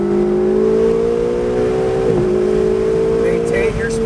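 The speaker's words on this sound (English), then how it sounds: "Back on the gas, roll into the throttle, accelerate up the hill" A Ferrari 488 at Pacific Raceways in Kent, Washington, pulling uphill on the race track with a loud, steady engine drone. A brief pitch dip comes midway, likely a gear change, and faint talk sits beneath.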